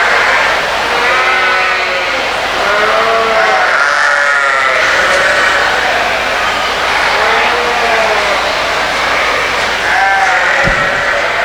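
Many Border Cheviot yearling ewes bleat repeatedly and overlap at a crowded indoor sheep show, with a constant murmur of the crowd and a brief knock near the end.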